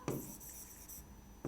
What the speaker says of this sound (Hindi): मैं नीचे लिख दे रही हूँ